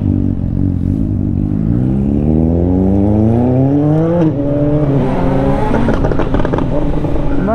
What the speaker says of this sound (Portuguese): é só acelerar que essa moto sobe